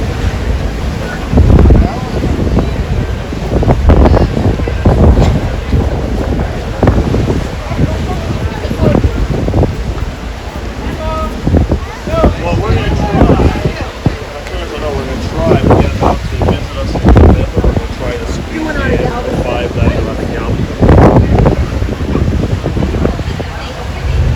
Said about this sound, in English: very windy up there, so my camera's bobbing really good